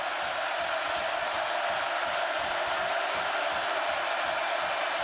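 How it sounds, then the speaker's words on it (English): Loud college football stadium crowd at California versus Oregon cheering steadily, a broad unbroken roar of many voices close and filling the space throughout. "Listen to this crowd."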